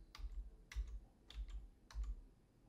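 Keys on a computer keyboard pressed in four distinct clacking bursts, roughly evenly spaced, close and fairly quiet, as the Windows key and arrow keys are tapped.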